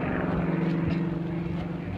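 A propeller airplane roars steadily overhead at an air show after climbing for altitude and airspeed, its engine drone loud and continuous throughout with no talk.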